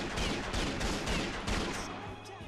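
Gunfire in the NARC video game on PS2: a run of rapid, loud, sharp shots in close succession, fading slightly at the end.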